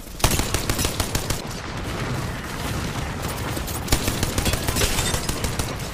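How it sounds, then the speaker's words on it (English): Rapid enemy gunfire in the Apex Legends video game: dense, continuous automatic shots crackling close and loud, with sharper individual cracks standing out, alone without talk. "The enemies are shooting at me. Taking fire."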